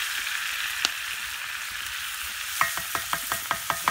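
Capers and garlic frying in a pan over a campfire, a steady hiss under a run of sharp crackles and pops that grow denser toward the end.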